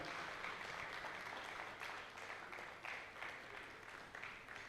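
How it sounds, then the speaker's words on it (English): Audience applause for a panelist at a security conference in Ghana, a dense, fairly distant sheet of clapping from a room of people that holds steady with slight swells. "A round of applause for him."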